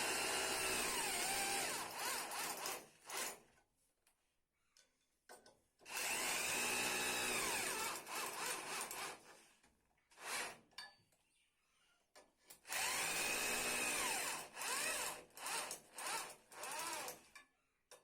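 A power tool whirs in three long bursts while tightening screws during an LG LED TV installation, each run a loud, high whine with short stop-start pulses between the runs.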